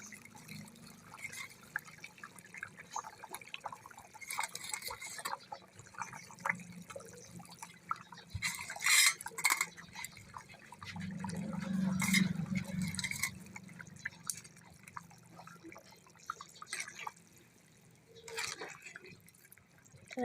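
Pieces of pomfret fish go into a simmering curry in a clay pot. Scattered wet drips, small splashes and light clinks are heard, with a soft low bubbling swell midway. The sound is close and quiet, with no talk.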